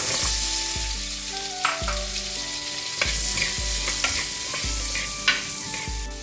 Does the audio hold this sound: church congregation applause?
no